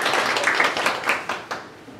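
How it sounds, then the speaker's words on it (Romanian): Audience applause at a conference on online marketing, a dense patter of clapping that tapers off over about two seconds. "să aplaudăm"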